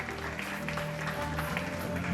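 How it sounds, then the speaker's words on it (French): Audience applause at a fashion show, steady clapping from a crowd under background music, moderately distant and sustained throughout. "Ça mérite vraiment des applaudissements"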